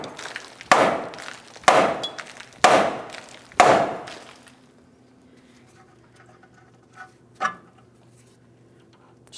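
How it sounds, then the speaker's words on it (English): A hammer strikes a GMC Sierra 2500 HD truck's steering knuckle four times at an even pace to loosen the tie rod end. Each blow is a sharp metallic knock, followed by a quiet stretch and one fainter tap. "we're going to be tapping on the steering knuckle"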